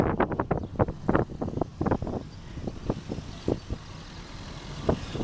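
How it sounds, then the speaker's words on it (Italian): Strong wind buffets a microphone outdoors during a stage of a road cycling race, the loud gusts coming as repeated rumbling bursts of roar that rise and fall in quick succession. "Troppo vento."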